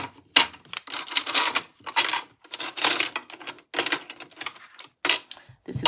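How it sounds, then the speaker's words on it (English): Presser foot being swapped on a sewing machine for a zipper foot ahead of sewing an invisible zipper: a run of quick, close plastic and metal clicks and taps in irregular bursts, with faint background sound between them. "Let me switch over to my zipper foot."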